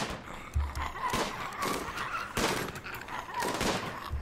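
Gunfire in the colony-building game RimWorld, with a zombie mod running, crackles in rapid, uneven bursts. It keeps up steadily throughout, with brief gaps and some louder cracks.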